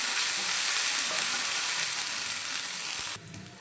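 Ginger garlic paste sizzles steadily in a hot pan, a dense, close frying hiss that runs loud and unbroken, then drops abruptly near the end as if the heat is cut.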